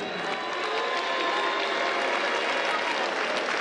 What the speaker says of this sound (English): Thompson getting a pretty sporting round of applause from the big crowd here in Liverpool.